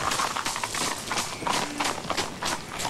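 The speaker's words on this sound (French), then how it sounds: "j'ai mon cheval à faire courir." A horse runs with quick, rhythmic hooves clip-clopping on the ground, fairly close and steady, heard alone without speech.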